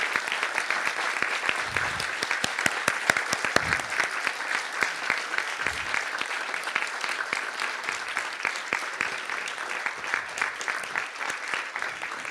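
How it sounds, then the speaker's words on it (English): A seated audience at an education conference on sustainable development breaks into sustained, steady applause, many hands clapping evenly throughout with a few sharper claps standing out near the front. "please give them a warm round of applause"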